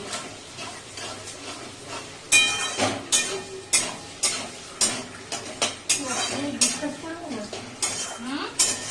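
Onions frying in a pan on a home stove, with repeated clinks and scrapes of a spoon stirring against the metal pan over a steady sizzle, fairly close and loud.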